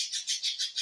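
Pet birds kept indoors chirp in quick, evenly spaced high tweets, about five in under a second, faint and close with nothing else heard.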